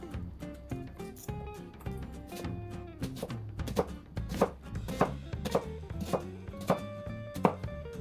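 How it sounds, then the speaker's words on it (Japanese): An onion being sliced fairly thick with a knife on a cutting board, heard as quick, uneven chopping taps close by, with no talking. "玉ねぎの半分は少し太めに切ってバラバラにしておく"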